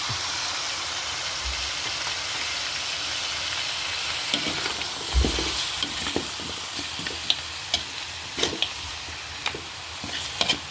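Goat head and feet sizzle loudly in a hot pan as fish sauce is added, with intermittent scraping clicks of a utensil stirring and a couple of low thuds.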